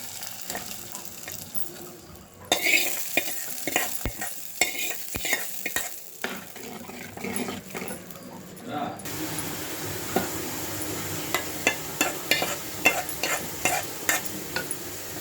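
Oil crackles and sizzles loudly as hot tempering goes into a moong dal and Malabar spinach curry, then settles into a steady fizz with scattered pops and stirring.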